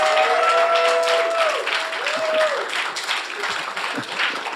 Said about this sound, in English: Let's a round of applause for Jimmy Buffett.